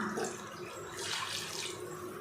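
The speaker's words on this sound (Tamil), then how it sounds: "இப்போ இதில் மட்டன் வேகிறதுக்கு தேவையான அளவுக்கு தண்ணி சேர்த்துடலாம்." Water poured into a pan of browned mutton masala, a continuous splashing hiss lasting a couple of seconds, close and fairly quiet, with no talking.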